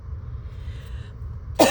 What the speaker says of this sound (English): y'all can tell my cough is better